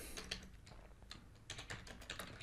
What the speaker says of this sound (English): Click once, start typing here.